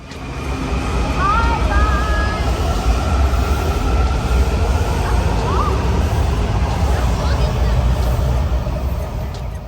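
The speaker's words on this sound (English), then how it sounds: "we headed on the metro to Judiciary Square for our sightseeing tour" A Washington DC metro subway train in motion, a loud, continuous rumble and rattle of the car with faint squeals, and voices murmuring beneath it.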